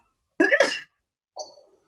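A single sharp sneeze bursts out close to the microphone, followed a moment later by a short, softer vocal sound, with silence around both.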